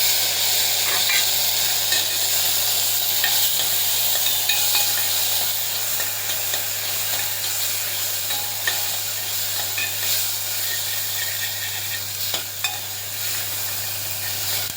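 Butter beans and mutton curry sauté in a pan with a continuous close sizzle and hiss, broken by occasional scrapes and stirring, with no talking.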